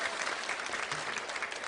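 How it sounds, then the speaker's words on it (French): Studio audience on a French TV game show applauding steadily, a dense, even wash of clapping held throughout at moderate distance, with no voices over it. "Je voudrais qu'on applaudisse fort."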